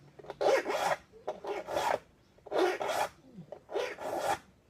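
Hand file rasping across the teeth of a rip saw in four separate bursts of strokes with short pauses between, close and moderately loud, with no talking.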